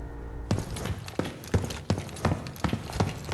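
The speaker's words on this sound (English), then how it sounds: "So you can hear his own footsteps a bit there." A player's footsteps in the shooter Black Ops 6: a run of about eight sharp, fairly loud impacts in an uneven walking rhythm, each a crisp thud-and-scuff against a quiet background.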